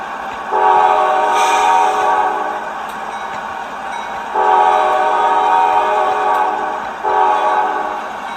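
A model diesel locomotive horn sounds three times, each a sustained multi-tone chord, the last one shorter, over a faint steady mechanical hum.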